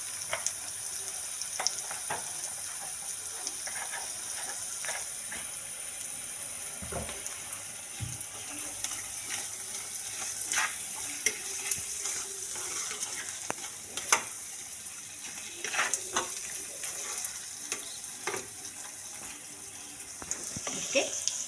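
Prawns with onion and garlic fry in oil in a pan, giving a steady low sizzle with occasional stirring clatters and scrapes throughout.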